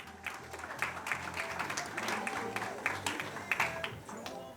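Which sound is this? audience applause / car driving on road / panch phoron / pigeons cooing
audience applause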